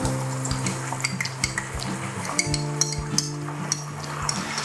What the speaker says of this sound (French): Notre mélange est fait. On va le verser là-dessus. Sur l'ail. On va faire bouillir ça.